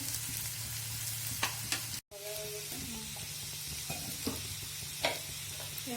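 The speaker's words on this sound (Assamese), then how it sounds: "পনীৰখিনি ভজা হৈ গৈছে।" Paneer frying in ghee in a pan gives a steady, fairly loud sizzle that runs throughout, broken by a brief cut and a few light scrapes of a spoon stirring.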